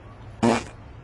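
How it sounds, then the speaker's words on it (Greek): A single short fart, sharp and fairly loud, lasting about a third of a second in an otherwise quiet room. "Έκλασες?"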